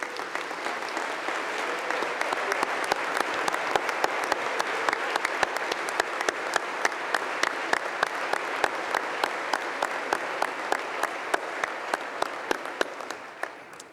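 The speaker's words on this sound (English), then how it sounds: "Would our Millikan University faculty and staff who are here please rise and be recognized with applause." Sustained audience applause at a university commencement as faculty and staff stand to be recognized, dense steady clapping from a large crowd filling the hall without pause for about fourteen seconds.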